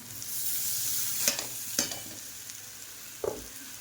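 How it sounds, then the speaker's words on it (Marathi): Potatoes frying in a pan of hot oil with fenugreek-free spiced seasoning, a constant bright sizzle broken by three sharp stirring scrapes. "तर आता मी बटाटे टाकून घेते"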